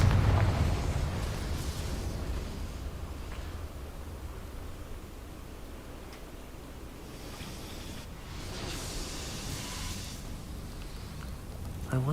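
Confringo spell explosion in Hogwarts Legacy erupts in a broad rushing burst that fades into a long rumbling hiss, with a second swell of debris-like noise later, loud and close without talk.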